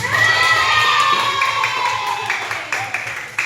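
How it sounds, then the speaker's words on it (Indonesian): Children in an Indonesian classroom clap and cheer together after a correct answer, a loud, close burst of rhythmic clapping mixed with shouting voices that fades out over a few seconds. "Tepuk tangan."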